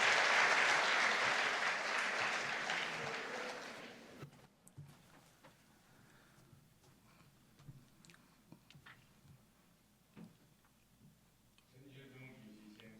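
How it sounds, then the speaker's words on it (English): An audience at an APEC CEO Summit applauds loudly to welcome President Xi Jinping, a dense burst of clapping for about four seconds that fades out, followed by scattered small clicks and rustles in a large hall. "Use the warmest applause to welcome President Xi Jinping to deliver a keynote speech."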